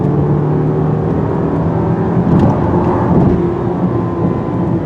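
A 2020 Volkswagen Atlas with a 4-cylinder turbo engine accelerating, heard from inside as a steady loud engine drone and road rumble with a slight rise in pitch, no talking.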